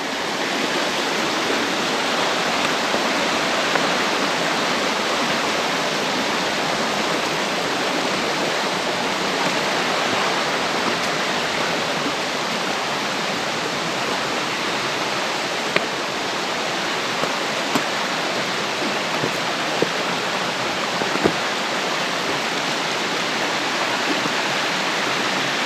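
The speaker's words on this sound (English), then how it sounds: "Another beautiful Poconos stream. The water is very clear, and there's all these stunning cascades." A clear Poconos stream tumbling over cascades produces a steady, dense rush of water, close and unbroken from start to finish with no voices.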